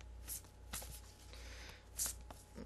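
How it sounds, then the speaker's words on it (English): An angel card deck is shuffled by hand, giving faint, soft papery swishes and a few brief riffles against quiet room noise, with no one talking. "Okay, I'm shuffling."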